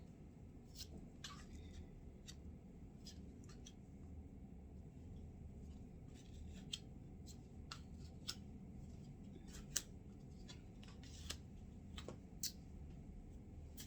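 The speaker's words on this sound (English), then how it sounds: "I'm going to cut and pull the rest" Tarot cards being cut and pulled from a deck, heard as sparse, sharp little snaps and flicks over a steady low background rumble, close up with no talking.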